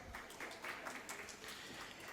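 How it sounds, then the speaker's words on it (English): An audience at a business event stage in Nagpur gives a round of applause for a speaker being welcomed up, a faint, distant, even patter of many hands with no talking over it. "Please give him a round of applause."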